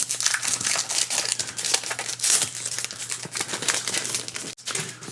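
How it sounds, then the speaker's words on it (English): Plastic wrap is peeled and crinkled off a faux leather dot grid notebook, giving close, continuous crackling with rapid rustles and a short pause near the end. "Get the plastic wrap off of there so it's not so shiny in the light."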